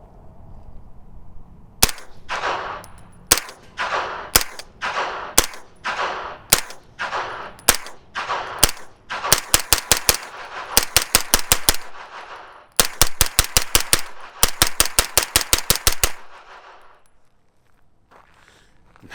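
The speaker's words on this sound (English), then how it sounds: "This is a rugged Obsidian 45 suppressor, and it works just great on a 9mm as well." Suppressed 9mm gunfire from a PSA ARV carbine fitted with an Obsidian 45 suppressor: sharp, close shots, first spaced single rounds, then quick strings of rapid fire, with no talking.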